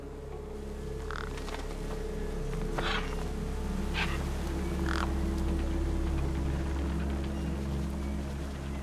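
Birds caw in a few short, separate bursts over a steady low machine hum, set in the video game Beyond a Steel Sky.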